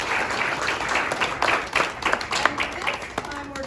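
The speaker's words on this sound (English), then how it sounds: "let's give a round of applause one more time to all of you at Continuum of Care" Audience applauding a Continuum of Care homelessness program at a grant event, steady dense clapping filling the whole stretch with a few sharper claps standing out.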